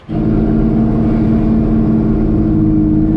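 A Toyota Supra race car is driving, its engine holding a steady, loud drone that starts abruptly and stays constant throughout, with no voices.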